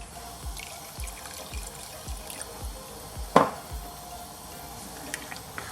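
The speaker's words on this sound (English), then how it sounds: "I'm going to get some more water." Water pours in a brief splash into a pot of lamb keema curry, with soft dripping and a series of low thuds of stirring around it, close and fairly quiet.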